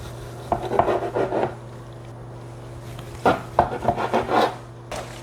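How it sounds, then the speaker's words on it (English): A knife cuts leftover turkey into quarter-inch strips on a board, giving two bursts of short, rapid slicing strokes, close and distinct, separated by a quiet pause. "You are going to cut roughly 1/4 inch"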